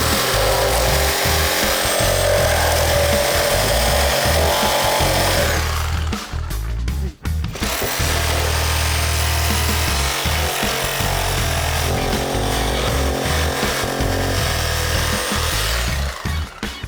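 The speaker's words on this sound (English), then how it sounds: "let's grab the recip, cut these studs out of the way" Reciprocating saw cutting through wooden wall studs, a loud buzzing, rasping drone close by that pauses briefly mid-way and then resumes with the same steady intensity.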